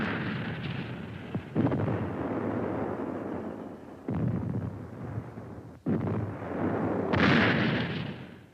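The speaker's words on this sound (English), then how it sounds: "The Navy ships with their 8 and 16-inch guns are able to fire up to 23 miles inland." Naval guns with 8- and 16-inch barrels fire shells, a heavy continuous rumble punctuated by several deep booming blasts at uneven intervals, with no talking.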